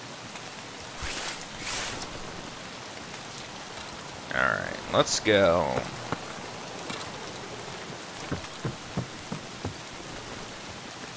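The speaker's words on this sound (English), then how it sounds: "God, it's raining hard." Steady rain hissing across the whole clip in the video game Escape From Tarkov, with someone speaking briefly over it and a few soft thuds near the end.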